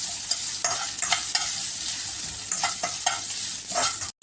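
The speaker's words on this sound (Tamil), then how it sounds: "இஞ்சி பூண்டோட பேஸ்ட்டோட பச்சை வாசனை போகிற வரைக்கும் நம்ம வதக்கி விட்டுக்கலாம்" Steady sizzling of ginger garlic paste frying in a hot pan, with a spatula scraping and stirring at intervals, close up and continuous.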